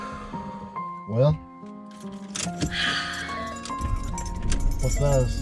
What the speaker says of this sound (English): The keys to my daddy's old car.